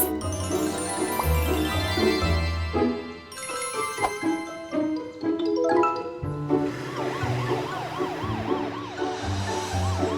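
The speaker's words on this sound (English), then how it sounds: "Morphle, morph into an ambulance." A wailing ambulance siren rises and falls over busy cartoon music and effects, cycling steadily and growing more prominent in the second half.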